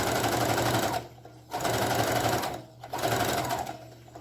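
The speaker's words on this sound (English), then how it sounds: "you can just chain sew them this way" Sewing machine chain-stitching pom pom seat cushion pieces, three runs of fast steady whirring stitching separated by brief pauses, close and clear.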